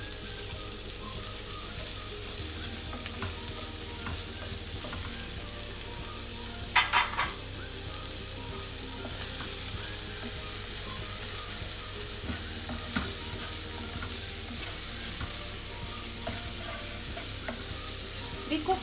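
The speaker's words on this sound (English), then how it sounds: "Then I add some onions to it." Onions sauté with garlic in a pan for lasagna, giving a steady, close sizzle with scraping stirs and occasional clinks of a utensil against the pan, continuous throughout.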